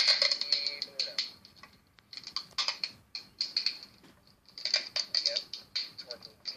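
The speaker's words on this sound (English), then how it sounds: "Again, torquing the tape down to the actual foam padded tip" Tape being pulled and wrapped tightly around the foam-padded tip of a handmade arrow, several bursts of crackling, ticking tape noise close to the mic, separated by short pauses.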